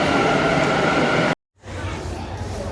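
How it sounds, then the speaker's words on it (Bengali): A Bangalore metro train arriving at the station, a loud rumbling roar of the carriages up close that cuts to a brief silence and then resumes as a lower steady hum. "মেট্রো অলরেডি মেট্রো চলেও এসছে।"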